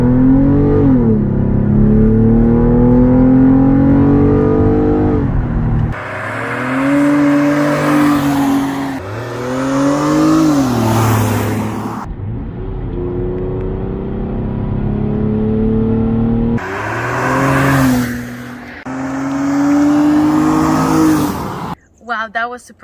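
A car fitted with a K&N air intake accelerating on a street, its engine note rising in repeated revving sweeps through the gears, loud and close, with brief gaps and a voice talking over parts of it.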